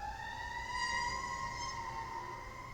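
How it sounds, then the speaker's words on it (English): Emergency vehicle sirens wail outside, their rising and falling tones sounding at moderate distance over a low background rumble with no one talking. "Sirens, bro. That was fucking horrible."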